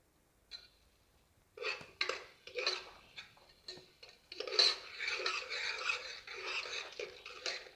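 A spoon stirs and scrapes through chickpea gravy with mixed spices in a pan, a series of soft clinking, scraping strokes that grow busier after a quiet start, close and fairly faint.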